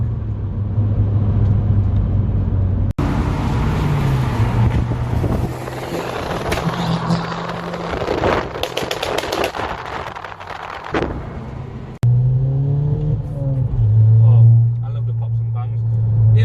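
A car engine roars loudly under hard acceleration, the pitch climbing through gear changes, with wind buffeting and someone talking over it.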